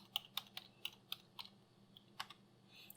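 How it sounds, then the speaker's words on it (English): Quiet clicks of someone typing a password on a computer keyboard, about a dozen separate keystrokes in an uneven rhythm with short pauses, close by and with no talking. "now type your new password"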